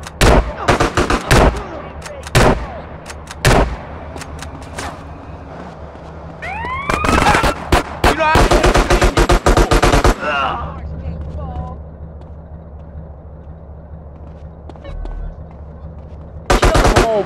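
Rapid automatic gunfire bursts crack out loudly in GTA San Andreas, in several sharp volleys separated by quieter stretches, with a siren wailing and a voice speaking between them.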